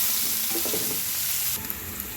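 Chopped onion frying with cumin seeds in hot oil, a close, steady sizzle and crackle that briefly swells as the pieces go in, then settles into a quieter hiss.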